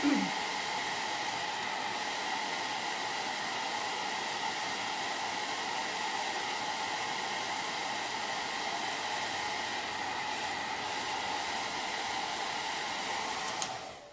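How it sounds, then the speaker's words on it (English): Hair dryer blowing steadily on a painted standing house decoration, a constant loud whooshing hum that starts abruptly and cuts off at the end, with no talking over it. "So I'm going to give this a quick blow dry"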